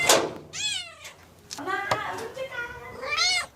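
A mother cat with newborn kittens gives several high, rising meows close by, one at the start, more in the middle and another near the end, with someone talking softly over and between them.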